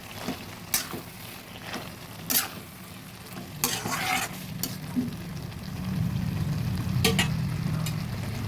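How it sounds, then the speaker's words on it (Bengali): Hilsa fish head and ash gourd curry cooks in a pan, with soft sizzling and scattered utensil clicks and scrapes, then a low, steady bubbling simmer building toward the end. Nobody speaks. "জলটা আর একটু ফুটিয়ে নিচ্ছি"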